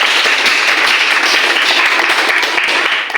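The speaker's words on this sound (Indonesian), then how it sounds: "tepuk tangan semuanya" A classroom of students applauds, a loud, dense and steady wall of clapping that fills the room without a break for about three seconds.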